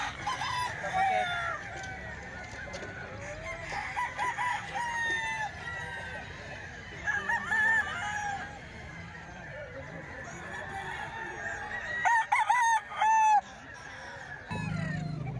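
A Gilmore gamefowl rooster crows at a moderate distance over background murmur and outdoor noise, with a couple of longer crows and short clucking notes in between.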